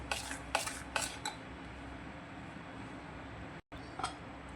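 A spoon stirs cardamom and nutmeg powder into a glass of raw mango drink, giving several short scraping, clinking strokes in the first second and a half, then a steady quieter rubbing with one more brief clink near the end.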